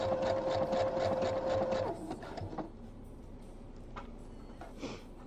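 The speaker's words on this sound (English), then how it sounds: "Hopefully the sewing isn't really loud this time" A sewing machine stitches a bodysuit sleeve with a rapid, steady mechanical whir for about two seconds, then stops, leaving quieter handling noises and a brief later burst.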